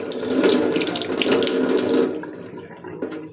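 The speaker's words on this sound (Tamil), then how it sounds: "இப்போ இதை நல்லா ஒரு தடவை இப்படி வாஷ் பண்ணி விட்ருங்க" Tap water gushes steadily into a sink as something is rinsed clean. The flow cuts off after about two seconds, leaving a few faint knocks and drips.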